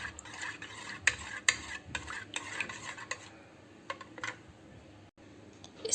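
A spoon stirs and scrapes a yogurt and water mixture around a bowl in quick irregular strokes, with light clinks against the sides; close by, no voices.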